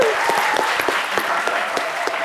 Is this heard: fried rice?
no